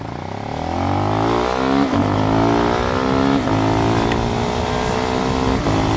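A KTM Duke 390 motorcycle on Dunlop Sportsmart TT tyres accelerates, its engine note climbing through several gear changes, close and loud, rising pitch after each shift.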